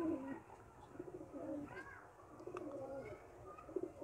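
Teddy pigeons coo softly in a loft, low repeated calls layered with faint chirps and background murmur, fairly quiet overall.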